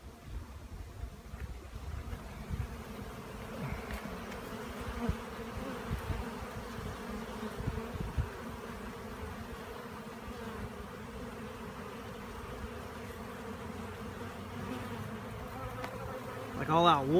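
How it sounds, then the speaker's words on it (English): Honey bees swarm thickly around strong hives during a robbing frenzy, making a steady, dense buzz that holds throughout, with a brief louder swell near the end. "I mean, look at all the bees."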